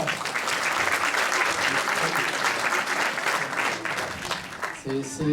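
A stage audience of about 250 people applauds a participant, with dense, loud clapping that holds steady for several seconds and then thins toward the end as a few voices come through.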